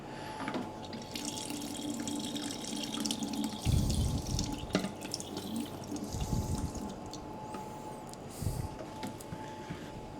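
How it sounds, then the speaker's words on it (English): Beer running through a tap line into a keg during a gravity transfer, heard as a faint, steady liquid trickle and gurgle with a few bumps and clunks, close and quiet. "Start that beer flowing, the first little bit of gunk you don't worry about."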